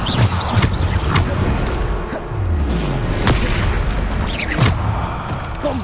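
Repeated Bombarda spell explosions in the video game Hogwarts Legacy, deep booming blasts with sharp bursts over a dense, rumbling battle soundscape, several impacts spaced across the clip.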